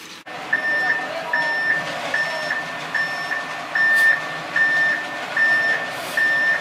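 A concrete truck delivering the final load for a driveway pour backs up, its reversing alarm beeping in a steady, evenly spaced series over low engine rumble, close and fairly loud.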